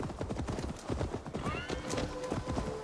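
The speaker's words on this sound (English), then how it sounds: "It's a horse." In Assassin's Creed Valhalla, a horse's hooves clip-clop in a steady rapid rhythm while the horse gives a clear neigh partway through, loud and close.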